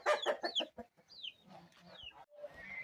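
Turkeys cluck and burble close by in a short burst, followed by scattered softer calls and gobble-like warbles.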